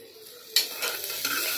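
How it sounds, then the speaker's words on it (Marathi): Onion dropped into hot oil for a spicy mutton curry bursts into a sudden loud sizzle, then keeps crackling and frying steadily with stirring scrapes, following a quiet start. "कांदा टाकून लाल करून घ्यायचा आहे।"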